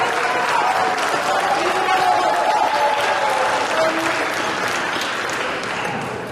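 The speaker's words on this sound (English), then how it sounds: "Can I get all of our grade 6 badminton players to stand up for a round of applause?" A school athletic ceremony crowd applauds grade 6 badminton players: loud, sustained clapping from many hands, steady throughout and easing slightly at the end, with cheering voices mixed in.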